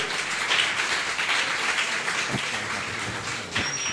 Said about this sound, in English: just big round of applause to Damian Whiskey, the Midnight Grill